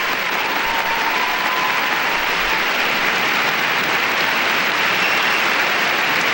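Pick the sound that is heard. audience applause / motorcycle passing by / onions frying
audience applause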